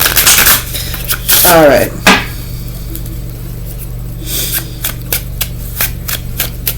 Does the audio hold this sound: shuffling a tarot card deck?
yes